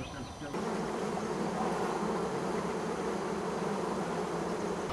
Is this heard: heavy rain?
no